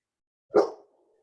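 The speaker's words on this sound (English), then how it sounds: "I'm hearing a dog" A single short dog bark, somewhat distant and muffled, comes through an online meeting, alone against silence.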